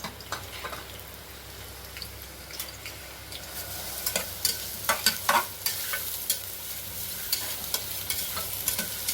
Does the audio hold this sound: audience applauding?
no